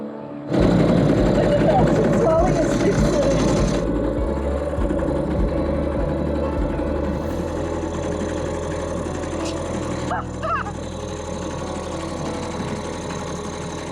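A small outboard motor drives a dinghy over shallow Bahamas water. It starts abruptly and loud, then settles into a continuous close droning run that fades slightly and holds steady to the end.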